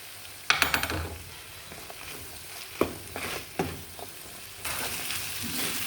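Chicken frying in a pan with pepper and salt for butter chicken, a low steady sizzle broken by several sharp clinks and scrapes of a utensil against the pan, then the sizzling swells louder near the end.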